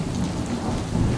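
A thunderstorm with heavy rain pours down steadily as a dense, close hiss, with a deep low rumble of thunder rolling beneath it and swelling near the end, with no voices over it.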